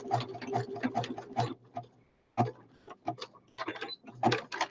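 Sewing machine stitching a double zigzag stitch on woodland-themed journal ephemera, heard as several quick rattling bursts of rapid needle ticks separated by short pauses.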